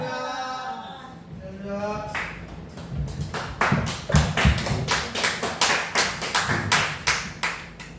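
A church congregation rises for a standing ovation, rhythmic group clapping building from a few claps after a short sung tone into steady, loud, evenly paced applause filling the room.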